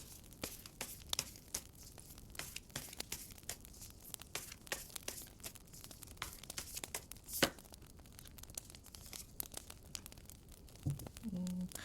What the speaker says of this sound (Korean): 그럼 여러분들을 위한 조언 카드 뽑아보도록 할게요